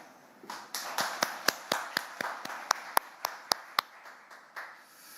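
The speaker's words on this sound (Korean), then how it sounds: "서로 박수 한번 크게 치면서 시작하시죠" Journalists at a press conference with South Korea's National Assembly Speaker clap, sparse and fairly quiet, a dozen or so distinct, irregular claps rather than a full ovation.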